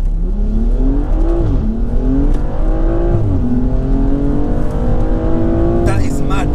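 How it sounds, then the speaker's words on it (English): A BMW M235i launching hard in Sport Plus mode, heard from inside as the engine climbs steadily through the revs with brief dips at gear changes, loud and continuous, with voices reacting over it. "Bro, just launch the hell out of this car, yeah?"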